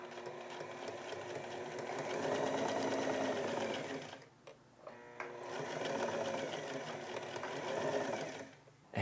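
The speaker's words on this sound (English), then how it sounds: "And finally, sew this all together." A sewing machine runs in two steady bursts as it stitches laundry bags together. There is a short pause between the bursts, with a close, even mechanical whirr and no talk.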